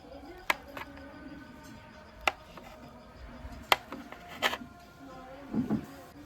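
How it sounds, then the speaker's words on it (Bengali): A knife chops paneer into pieces on a board, a few sharp isolated knocks spaced irregularly, fairly close and quiet. "এইভাবে পনিরগুলো সব সাইজ করে কেটে নেব"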